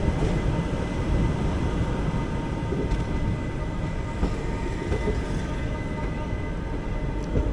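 The Ernakulam–Velankanni Summer Special Express rolls steadily onto a crossing line near Tenkasi Junction, giving a continuous loud rumble with faint wheel clatter from on board and no talk.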